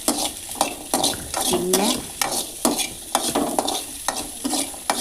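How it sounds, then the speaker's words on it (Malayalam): Chopped onions sizzle in coconut oil while a spoon scrapes and stirs them in rhythmic strokes close up, with a brief spoken word over the frying. "ലേശം കൂടി വെളിച്ചെണ്ണ ഒഴിച്ചിട്ട് ഒന്നും കൂടി ഒന്ന് വാട്ടിയെടുക്കുക"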